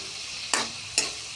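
Green chillies hiss and sizzle in a frying pan as an Indian potato, green banana and paneer dish is cooked, a steady close frying crackle broken by two sharp bursts of louder spitting, with no voices.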